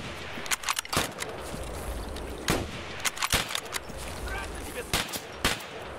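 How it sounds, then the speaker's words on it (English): Gunfire from a scav shooting through a bush in Escape from Tarkov, a scattered string of sharp cracks, single shots and quick bursts at moderate distance, irregularly spaced over a low ambient background. "With a scav shooting through a bush"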